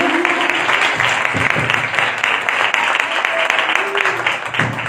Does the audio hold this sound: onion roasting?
no